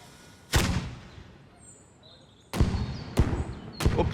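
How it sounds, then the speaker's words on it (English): Firecrackers go off at a street festival in Portugal: four sharp, loud bangs, one alone and then three in quick succession, each cracking out over quiet background noise. "that's a firecracker."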